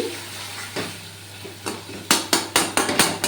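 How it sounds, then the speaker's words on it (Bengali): Cauliflower stirred and fried in oil, a quiet sizzle broken by a run of sharp, rhythmic scrapes and clacks of a utensil against the pan, growing quicker and louder toward the end. "ফুলকপিটা একটু তেলে নাড়তে হবে"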